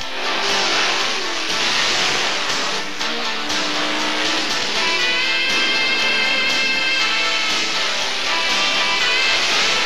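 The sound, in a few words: Hemi V8 engine revving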